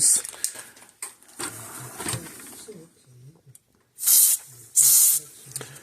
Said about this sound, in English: This is contact cleaner stuff, so we'll try it first